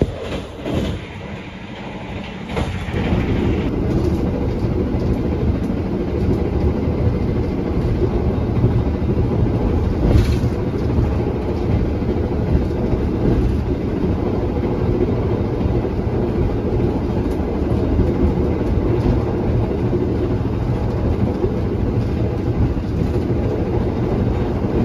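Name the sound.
KA Taksaka passenger train running, Jogja to Jakarta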